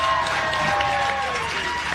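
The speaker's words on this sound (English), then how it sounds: "Can we have a big round of applause, please, for the Reverend?" An audience gives the Reverend a steady round of applause, with scattered cheers mixed in. The clapping is brief and fairly loud and stays even throughout.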